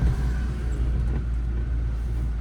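A car engine accelerates in first gear through bumper-to-bumper city traffic, a steady low rumble with a faint rise in revs, heard from inside the car.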